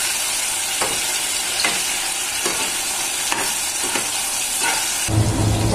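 Mushrooms fry in a pan for pickle, a steady close sizzle with repeated stirring scrapes, and a louder crackle near the end.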